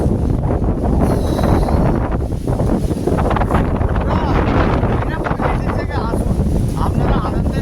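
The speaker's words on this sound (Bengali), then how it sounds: "হাওয়া দেখতে পাচ্ছেন এখানে, হাওয়া ওরে বাবা রে" Strong wind buffeting the microphone on the bank of the Ganges, a loud, continuous roaring rush that gusts unevenly throughout, close and harsh.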